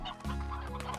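Chickens cluck steadily inside a coop on a Slime Rancher farm, a continuous close cackling chorus with overlapping hens for the full second.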